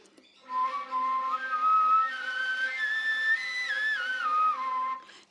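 A flute played with the whistle-tone extended technique gives a very soft, pure, sustained whistling tone that slowly glides upward and then back down over about five seconds, alone and close.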